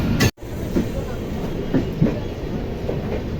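A train pulls into Howrah station after leaving the Tikiapara car shed, its steady rumbling rail noise rolling continuously with faint clickety-clack beats and a brief sharp break near the start.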